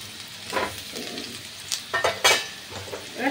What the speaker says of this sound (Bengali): এবার সামান্য একটু নাড়াচাড়া করবো।